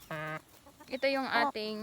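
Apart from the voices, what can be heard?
Barred Plymouth Rock chicken clucking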